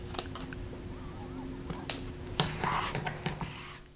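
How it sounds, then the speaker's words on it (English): Scissors snip the tie ends of a sewn winter scarf, cutting fabric to fringe length; several short, faint crisp cuts spaced irregularly in a quiet room, with no talking. "Cut the ends of your ties the same length as the fringe."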